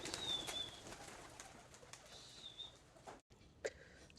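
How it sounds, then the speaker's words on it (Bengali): Pigeons being released give faint coos and brief wing flaps, quiet and close, with a few soft calls scattered over a few seconds. "এখন আমি কবুতরগুলো ছাড়তে পারি"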